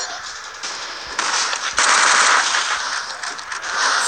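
Sustained rapid automatic gunfire from the Unkilled shooter game, dense and loud, continuous crackling bursts with no pauses and no speech.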